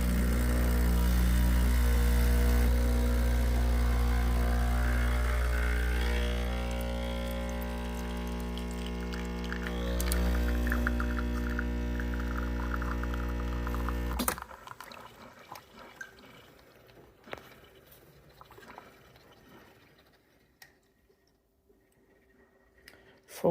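An espresso machine pulls a single shot: a loud pump hum with liquid streaming into a cup for about fourteen seconds, then it cuts off, leaving quiet clicks and faint drips.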